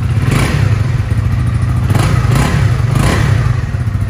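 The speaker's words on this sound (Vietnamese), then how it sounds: "Nổ máy cho anh em nghe." A 2020 Honda CB150 motorcycle engine idles and revs close by, with a steady low throb and several swelling rev bursts spread across the clip.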